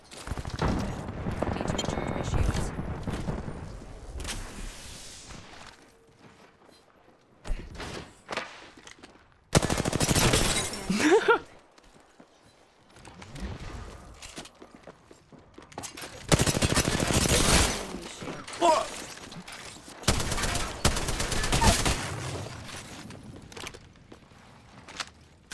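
Video game gunfire in repeated loud bursts of automatic fire, separated by quieter stretches with footsteps and movement, the heaviest volleys near and harsh.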